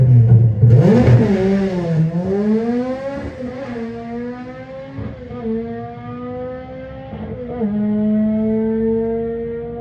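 A Honda Civic EP3 launches hard at a Santa Pod drag strip, the engine screaming up through the revs with a loud start, then climbing through several gear changes as it pulls away down the track.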